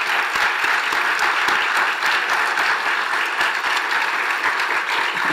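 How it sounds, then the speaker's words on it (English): A symposium audience applauding steadily, dense overlapping claps sustained at even loudness for several seconds. "let us give them a good applause"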